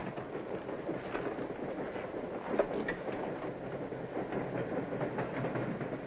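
Steady rumbling rattle of a train rolling along the rails in a 1940 film, with faint rhythmic clacking and a brief sharp clank midway.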